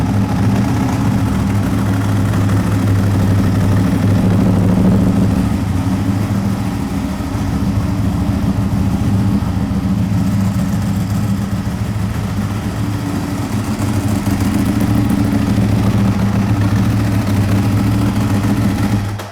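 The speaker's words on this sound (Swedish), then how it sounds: "det är riktigt rå gång i motorn" A motorcycle engine runs roughly with a loud, steady low-pitched throb and a coarse, uneven texture, continuous and close throughout with no talk over it.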